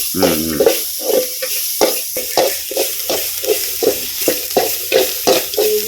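Unpeeled garlic cloves fry in plenty of oil with a loud, close, continuous sizzle, pulsing in a regular rhythm alongside tonal background music.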